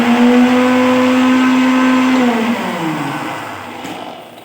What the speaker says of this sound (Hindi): इसको ब्लेंड कर लेंगे